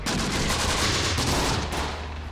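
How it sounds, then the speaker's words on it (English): Dense, continuous gunfire from a tank and infantry in the Close Combat war game, loud and steady, with overlapping rapid shots and no voices. "Let's go ahead and open fire on the rifle team."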